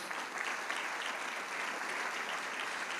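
Congregation applauding together during a Spanish-language church service, a steady wash of clapping held at an even level throughout.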